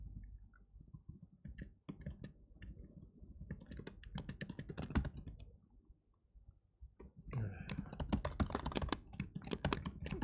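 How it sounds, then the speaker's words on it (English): Close, uneven typing on a computer keyboard during a timed coding contest comes in sparse clicks, then dense rapid bursts of keystrokes with no voices. "Typing in a very disjointed way right now."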